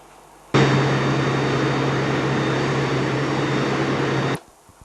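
Steady, loud cabin drone of an aircraft in flight over Antarctica en route to the South Pole, a continuous engine roar with a low hum that starts abruptly and cuts off near the end, with no voices.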